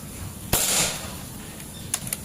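A sharp shot from a folding PCP air rifle cracks out, followed moments later by two quick metallic pings of a pellet striking a steel silhouette target.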